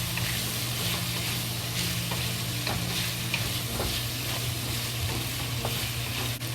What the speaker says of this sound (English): then we add the cauliflower into it, to cooking, to keep it fried